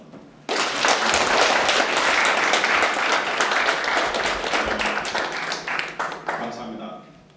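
An audience at a judicial reform forum bursts into loud applause that swells quickly, holds for several seconds with a few sharp individual claps standing out, and then thins and fades.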